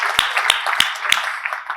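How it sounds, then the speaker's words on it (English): Hands clap in a short burst of applause at a property investment event, with a few loud, sharp claps standing out over the quicker patter of the crowd. "round of applause, please"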